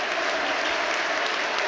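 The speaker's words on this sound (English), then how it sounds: "that is what the applause are for now from those around us here" A stadium crowd at a football match applauds in a dense, continuous clatter of clapping, heard from within the stands, with no talk over it.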